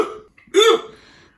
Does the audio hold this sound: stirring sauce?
no